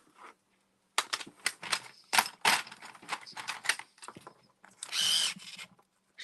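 An electric pencil sharpener grinds a coloring pencil in several short, loud bursts with brief gaps, ending in one longer steady whir, close up and with no talking.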